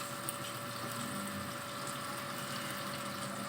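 Water being poured into a cooking pot of vegetables for tuna with potato and carrots, a steady soft gushing stream heard close and alone, with a faint constant hum behind it.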